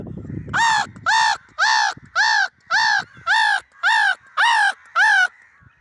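A voice imitates crows, giving nine steady, evenly spaced caws, loud and close, with a brief rustle before the first call.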